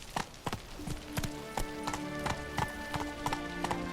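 Roach the horse from The Witcher 3 trots along, hooves clip-clopping in a steady repeated rhythm over a sustained tonal game background.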